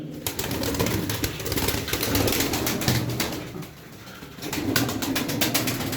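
Bursts of rapid wing flapping from pigeons nearby, repeating in uneven clusters over a steady background rustle.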